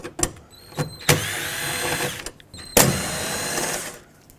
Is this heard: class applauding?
no